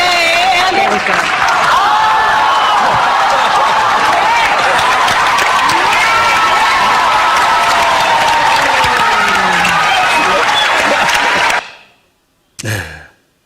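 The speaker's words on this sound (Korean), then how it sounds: "박수 칠만 하죠?" Loud, close audience applause mixed with cheering and excited crowd voices at a Bible lecture event, a dense, continuous roar for about eleven seconds before cutting off abruptly, followed by a short burst.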